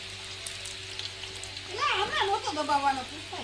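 Green chillies frying in hot oil give a steady, close sizzle and crackle throughout, with a voice speaking over the second half.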